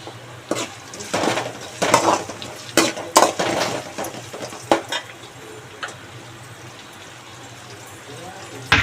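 Ginger-garlic paste fries in hot tempering oil, crackling in a pan with clanks and scrapes of a spoon stirring, bursts of sizzling rising and falling, a voice talking now and then.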